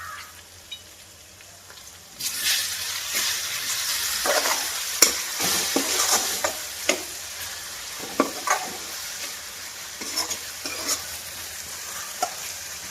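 Chopped amaranth leaves hitting a hot pan and frying with eggs, a loud steady sizzle broken by repeated sharp clinks and scrapes of a spoon stirring.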